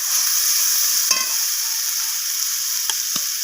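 Garlic paste fries in a pan alongside onion and tomato, giving a steady, fairly close high hiss with a couple of short clicks of a spoon or spatula.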